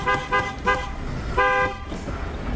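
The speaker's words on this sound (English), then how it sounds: "The car behind me honks because he thinks the driver in front of me is just sitting." A car behind sounds its horn in traffic, giving several short toots in an uneven burst, then one longer blast, loud and close over road and engine noise.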